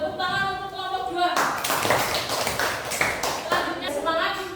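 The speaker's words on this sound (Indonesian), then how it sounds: "tepuk tangan untuk kelompok 2" A group in an Indonesian classroom training session claps for a presenting group, a brisk burst of many hands that starts suddenly after a voice speaks and runs for a few seconds, with speech over and after it.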